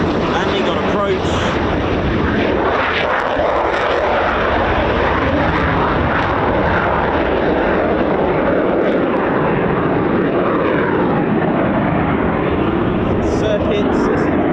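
Military jet, a Typhoon FGR4 or F-35B, flying around an RAF training and quick-reaction station, a loud broad continuous engine roar that fills the whole stretch, with a voice talking over it.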